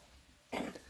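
A single short, near cough bursts out after a quiet moment, a rough throaty sound lasting under half a second.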